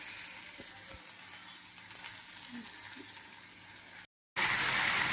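Spices frying in a pan with garlic and ginger give a steady soft sizzle with faint clinks and scrapes, broken by a brief silent gap before a louder hiss resumes.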